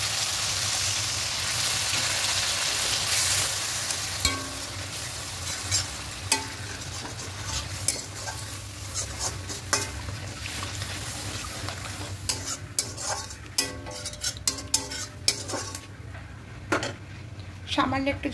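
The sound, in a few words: stirring and frying spice paste in oil for tilapia curry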